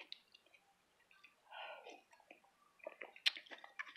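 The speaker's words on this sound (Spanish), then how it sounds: "Voy a masticar delante tuyo." Close, quiet chewing of raw spinach and arugula leaves, soft wet mashing and crisp little crunches coming in irregular bursts, with faint mouth sounds and no talking.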